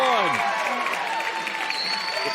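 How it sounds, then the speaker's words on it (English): Arena crowd at the UFC Apex cheering and applauding after a knee bar submission win in a grappling match, a steady loud roar throughout with a commentator's voice over it. "you can hear the crowd showing out for her now when she gets the win"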